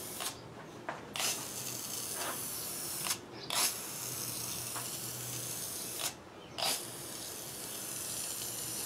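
Rust-Oleum spray paint hissing in steady bursts onto a faucet being refinished, with three longer sprays broken by short pauses and clicks of the nozzle, fairly close and with no talking.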